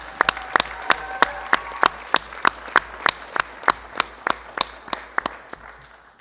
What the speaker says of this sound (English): she should stand up and take a round of applause